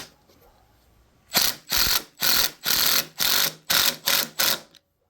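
Half-inch ratchet snugging a bolt on a riding mower's steering rack, heard as eight quick, loud, evenly spaced clicking bursts close to the mic after a second of near silence.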